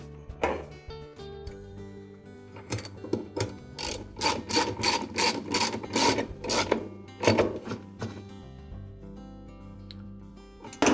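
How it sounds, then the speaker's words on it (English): A ratchet wrench tightens the agitator bolt on a Maytag washer, a loud, close run of rapid clicking strokes that builds into steady back-and-forth ratcheting and ends with a final snug pull. "And then we'll tighten the bolt."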